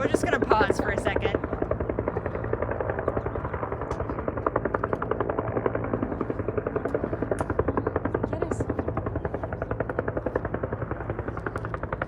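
Overhead, a helicopter thumps with steady, loud, rapid rotor beats that continue throughout, and a few faint voices come through beneath them.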